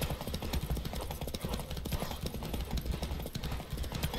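A horse gallops in a Witcher video game, its hooves clip-clopping in a rapid, steady, continuous rhythm that stays loud and close throughout.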